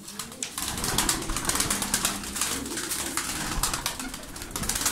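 Tumbler pigeons coo steadily with a flutter of wings mixed in, close and fairly loud, against a busy outdoor background with no talk.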